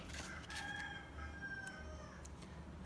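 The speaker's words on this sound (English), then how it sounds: "Can you hear the chicken today?" A rooster crows faintly in the background, its drawn-out calls repeating over a steady low hum, with no talk.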